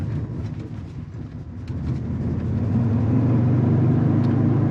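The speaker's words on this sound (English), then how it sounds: "There's a lot of wheel spin." A 2022 Toyota Tundra TRD Off Road with rear locker spinning its wheels in sand mode, engine revving up near 5,000 RPM in a steady, rising loud drone over sand spray.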